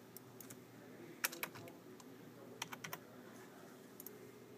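Computer keyboard keys and a mouse are clicked quickly in scattered bursts, sharp close taps over a low steady background hum, with no talk.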